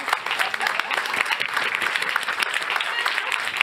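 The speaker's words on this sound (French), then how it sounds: "Mais oui, on applaudit, bien sûr." Audience applause at an insurance awards ceremony, dense and sustained clapping from a crowd filling the whole moment at close range.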